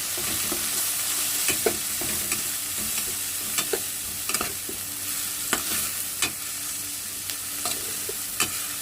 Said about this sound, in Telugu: మన మిశ్రమం అయితే టమాటా లూపుల మిశ్రమం అయితే బాగా వేగేసింది